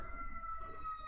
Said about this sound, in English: Time for the sirens.